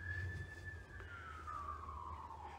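An emergency vehicle siren wails faintly in the distance outside a luxury home in West Kelowna, a single sweeping tone gliding slowly downward over low outdoor rumble.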